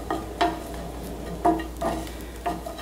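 Grated coconut stirred and dry-roasted in a pan, giving a few scraping, clinking strokes of the spoon over a soft, steady sizzle, close and fairly quiet.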